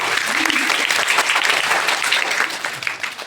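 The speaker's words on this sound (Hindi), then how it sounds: "एक बार जोरदार ताली हो जाए।" Children gathered for a storytelling session burst into loud applause, dense clapping lasting about three seconds before tapering off, with voices mixed in.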